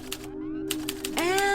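Typewriter keys clack in quick, close strikes, interspersed with a sustained tone and a rising zip near the end, likely the carriage moving, with no talking.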